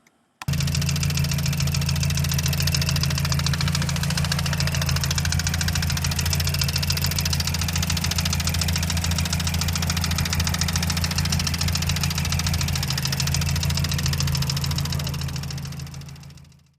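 A steady idling car engine with a rough, rhythmic knocking from a bent connecting rod running through it, close and continuous for the whole stretch.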